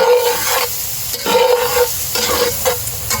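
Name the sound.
flour and butter cooking in a Lodge camp Dutch oven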